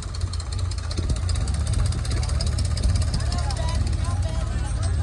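Heavy tractor engines, a Mahindra 585 and a Sonalika 745 on 14-inch tyres, strain against each other in a tug-of-war pull, a steady loud diesel rumble throughout with a crowd's voices mixed beneath.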